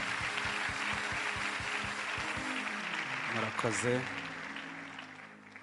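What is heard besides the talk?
audience applause for God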